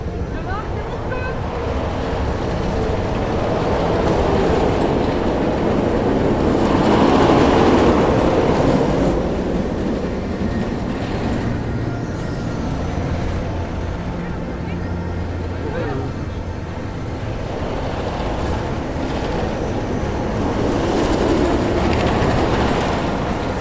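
Yoï, a pair of RMC Raptor roller coaster trains at Walibi Holland, rumbling along the track with a steady mechanical roar and clatter that swells midway, heard from nearby amid general park ambience.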